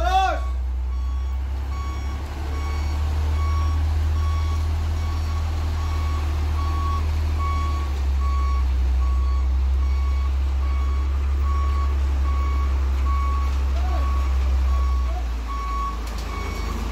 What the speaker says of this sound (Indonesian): tantangan berikutnya tentu saja manuver truk molen ini untuk mundur